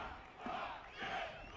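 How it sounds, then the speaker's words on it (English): A football crowd at a Preston Lions FC versus Melbourne City FC match roars after a goal, a broad sustained swell of many voices that rises in two waves and never drops out. "And listen to the roar from the crowd."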